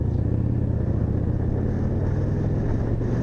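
Yamaha Bolt motorcycle engine rumbling steadily at low revs through a slow, tight U-turn, a close and even drone with no voices.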